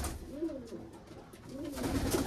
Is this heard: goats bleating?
no